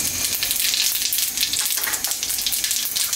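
Cumin seeds sizzle in hot oil as the base for a Bengali-style egg curry, a dense close crackling hiss that stays loud and steady throughout with no voices.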